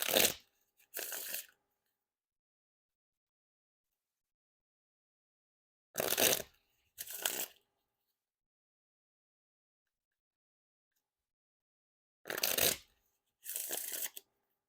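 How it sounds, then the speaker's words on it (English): Black Lions Seconds playing cards by David Blaine get riffle and bridge shuffled in three rounds, each a crisp rapid fluttering burst followed by a shorter softer cascade, close up, with silence in between. "Now time for the Riffle Shuffle or Bridge Shuffle."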